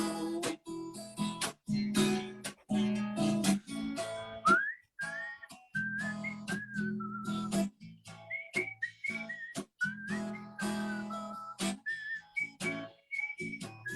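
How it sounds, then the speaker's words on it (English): A melodic whistled tune carries over a gentle, rhythmic song accompaniment, phrases rising and falling with short pauses between them. "I love the whistling part of the song."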